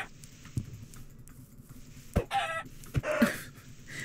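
A chicken in the video game Minecraft clucks in a few short, clear bursts over quiet game background sound with light footsteps.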